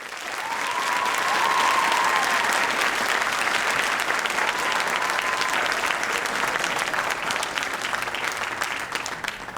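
Audience applause at a nursing candle lighting ceremony, a dense, sustained clapping from a large crowd that holds steady throughout.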